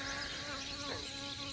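Honey bees buzz around hives in a continuous, close drone with a steady pitched hum, faint but unbroken through the short moment.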